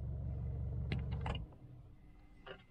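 A MINI Cooper's engine idles as a steady low rumble, then cuts out when the start-stop button is pressed, leaving quiet cabin sounds with a few soft clicks.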